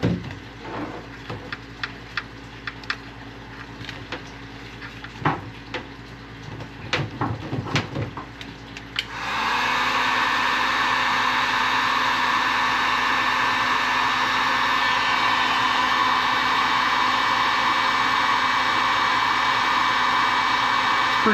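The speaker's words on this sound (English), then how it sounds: "And we are ready to hit it with a heat gun." Scattered clicks and handling knocks give way to a heat gun switching on and blowing a loud, constant airy roar with a steady whine as it heats a solder butt splice connector on boat wiring in cold weather.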